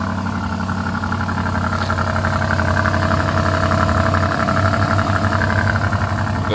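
An SUV engine idles steadily after a cold start with a deep, rumbling exhaust drone, continuous and close, with no voices.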